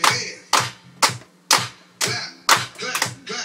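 Hands clap in a steady, roughly twice-per-second rhythm, loud and close, as a small group joins a chanted clapping game while a voice sings along.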